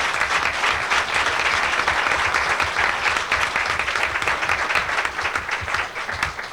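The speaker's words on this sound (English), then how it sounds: "I would like you to applaud and thank and appreciate each and every one of them" A town hall audience applauds six presenters with sustained, dense clapping that holds steady and loud for several seconds before easing slightly at the end.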